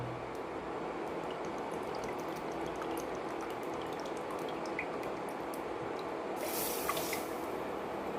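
Water poured onto sugar in a bowl to make jilapi syrup, a soft, close, continuous splashing trickle with faint drips, rising briefly near the end, with no talking.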